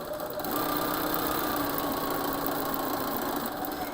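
A sewing machine set to stitch length 2.0 runs steadily while quilting NY Beauty blocks, a constant fast whirring hum with fine rapid stitching texture, close and moderate, with no talking.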